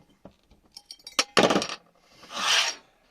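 Bottle of Butford Organics 'Thorn' 2021 pet nat pear wine being opened: close clinks and rubbing at the cap, a sharp burst of release, then a sustained foaming hiss, with no talking.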